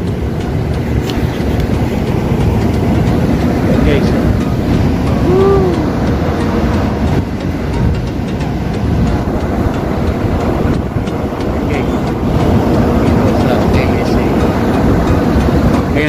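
Sandstorm wind in Riyadh, Saudi Arabia, a loud, steady broadband roar and buffeting that runs without a break behind a store, with gusty rumble and occasional faint background sounds.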